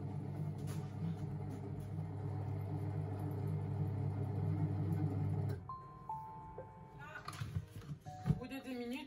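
A Monsieur Cuisine Connect food processor (Lidl) running at speed 1 and 37 degrees while activating yeast: a steady low motor hum for about five seconds, then it stops and a few electronic beeps sound, with some faint speech.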